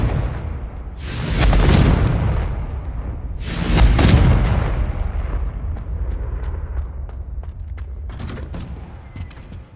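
Confringo fire spell explosions in the Hogwarts Legacy video game: two loud blasts a couple of seconds apart, each a sharp burst swelling into a roaring rumble, followed by fading crackles and a quieter tail.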